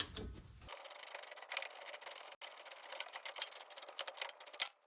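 Wrench ratcheting and scraping as a strut bolt on a 1994-2004 Ford Mustang front suspension is removed while vice grips hold it from spinning, a rapid close series of metallic clicks and rubs with a brief pause midway.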